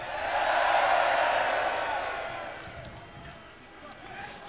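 Festival crowd at a Bloodstock metal set cheering, a broad roaring swell that peaks early and slowly fades, with scattered whoops at the tail.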